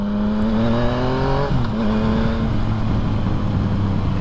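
A Yamaha MT-09 motorcycle engine droning steadily while being ridden, with a rising rev that drops at a gear change and then climbs again, loud and close under strong wind rush.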